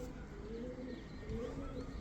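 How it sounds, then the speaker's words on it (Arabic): Pigeons, including Belgian birds, coo softly and repeatedly in low, rolling calls with a few faint chirps, set against a steady background hum with no talking. "خلي الحمام تطلع"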